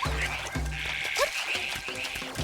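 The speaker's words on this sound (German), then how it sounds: "Also lauter Frösche. Wenn die Frösche quaken," Several frogs croak in short, repeated calls over a soft background ambience in The Legend of Zelda: Echoes of Wisdom video game, fairly faint, with no speech.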